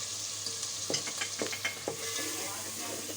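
Tomatoes with ground chillies, turmeric and salt frying in a pan, a steady sizzle under a quick run of spoon scrapes and taps.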